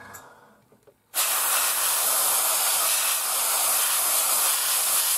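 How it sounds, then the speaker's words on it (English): Aerosol spray can hissing yellow paint onto a 1/72 scale Academy North American Mustang model, a quiet click and rattle followed by a sudden, loud, continuous hiss that runs steadily to the end. "spray the old yellow, mate."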